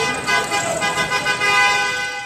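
Car horns honking repeatedly during a flash flood in Kastamonu, Turkey: several overlapping, sustained toots blaring close by in uneven bursts, with traffic noise and voices mixed in.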